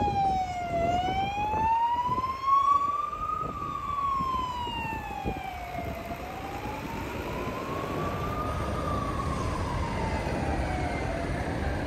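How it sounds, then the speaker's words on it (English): An ambulance or police siren in Spain wails continuously, its pitch sweeping slowly up and down over a rumble of traffic. "Now I can hear ambulance or police."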